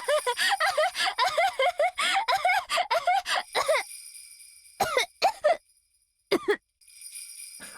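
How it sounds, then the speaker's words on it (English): Laughter breaking down into coughing, a run of rapid voiced laughs turning into a few separate harsh coughs and gasps, close and fairly quiet, alone. "I kept laughing until it turned into a cough."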